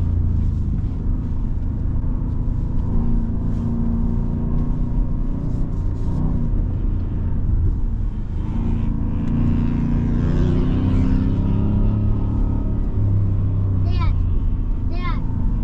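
A 2024 Ford F-150 Raptor R's supercharged engine runs at about 2200 RPM in four-high on a sand dune ride, a loud, steady low rumble with voices talking over it.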